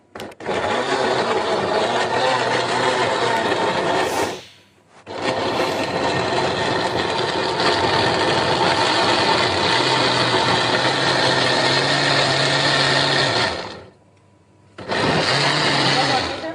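A blender whirs loudly and steadily as it blends tomatoes, cutting off briefly around four seconds and again near fourteen before starting back up.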